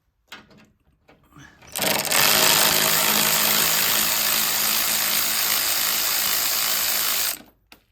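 A powered ratchet working on the nuts and bolts of a Mazda MX-5 NC headlight: after a few soft knocks, a loud, steady mechanical whir runs close for about five seconds, then stops abruptly.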